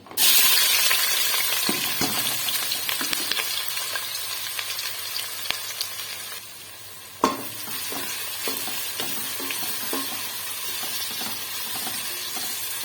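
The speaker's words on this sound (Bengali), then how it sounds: "তেল গরম হয়েছে এখন আমি পেঁয়াজগুলো ঢেলে দেবো" Onions go into hot oil with a loud burst of sizzling that slowly dies down to a steadier frying hiss, broken by a few spatula clacks and a sharp knock partway through.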